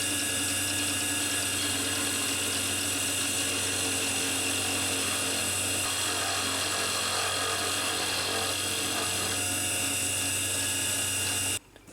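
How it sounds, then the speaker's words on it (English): A wood lathe turns a pen blank while a skew chisel smooths it, making a steady, continuous mechanical whir with a high whine and a gritty cutting texture throughout. The sound is loud and close, then stops abruptly at the very end. "So what we need to do next is just move on to the skew chisel,"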